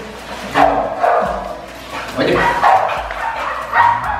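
A healthy, agitated female dog whimpers and gives short yips and barks in repeated bursts, close by, while someone talks over the sounds.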